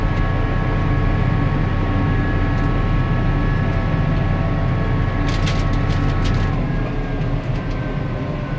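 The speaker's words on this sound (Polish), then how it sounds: "Puszczam gaz, ciągnik powoli będzie nam wytracał prędkość." A 2008 Massey Ferguson 7490 Dyna VT tractor running, its engine a loud, steady drone heard from the cab that eases slightly toward the end as the throttle is released, with a few faint clicks midway.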